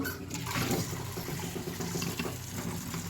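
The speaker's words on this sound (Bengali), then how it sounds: "কালি জিরেগুলো আমি ভালো মতো ধুয়ে নেব" Black cumin (kalonji) seeds being rinsed with water, a steady close rush and splash of running water that flows continuously without a break.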